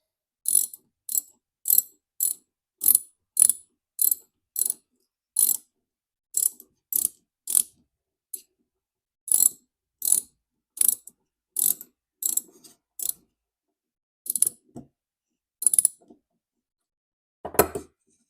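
A ratchet turns a Gator Grip universal socket to tighten a fitting, producing steady close clicking strokes in regular bursts for about sixteen seconds, then a final heavier clack.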